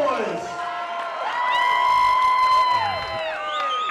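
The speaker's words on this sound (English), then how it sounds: "Let's give it one more time. Cheer for the blood boys." A crowd cheers steadily at a fight event, with sustained whoops and shouts rising in the middle, heard close and continuous.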